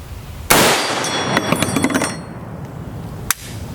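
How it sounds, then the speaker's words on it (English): An M2AP rifle round strikes a level IV body armor plate with a sharp, loud crack, followed by a rough, ringing rush of noise and one more brief sharp click near the end. "so we'll take another shot with the M2AP"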